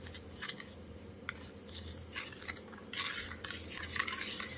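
A spoon stirs sugar and milk powder into lukewarm water in a bowl, giving repeated light scraping and swishing strokes, fairly faint and steady, with no voices.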